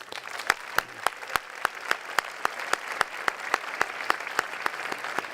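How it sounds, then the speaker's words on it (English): Audience applause at a graduate convocation ceremony, sustained steady clapping from a crowd with a regular pattern of sharper claps standing out, continuous throughout. "Please join me in applause."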